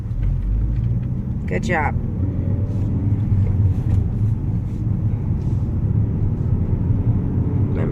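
Manual transmission car pulling away in first gear, a low steady engine rumble inside the cabin under a brief spoken remark, with faint clicks and road hum.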